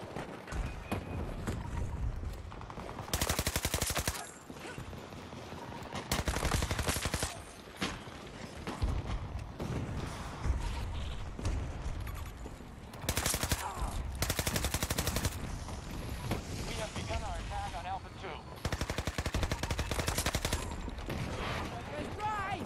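PP-29 submachine gun firing in Battlefield 2042, long rapid full-auto bursts broken by short pauses, loud and close, with game effects and a voice talking over parts of it.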